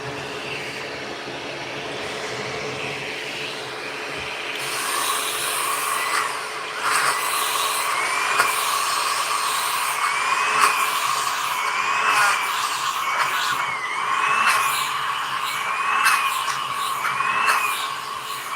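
A bevel sander runs steadily on a bowling ball, a continuous whirring motor drone with a higher grinding whine rising midway and pulsing rhythmically as the ball is worked, close and fairly loud.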